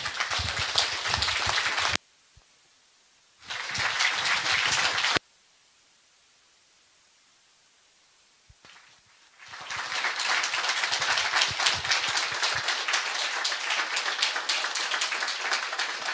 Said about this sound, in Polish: Wielkie brawa, dziękujemy.